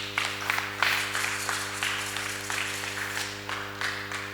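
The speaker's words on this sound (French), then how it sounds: "On acclame." Audience applause during a Sunday church school gathering, a steady patter of many hands clapping with rhythmic surges, over a constant low electrical hum.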